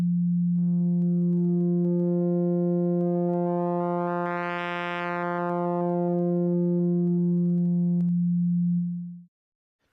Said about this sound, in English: We've got the main sine lobe here, and we're morphing into a much narrower sine.